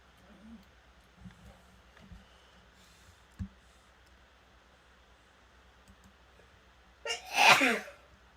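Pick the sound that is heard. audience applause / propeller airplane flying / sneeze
sneeze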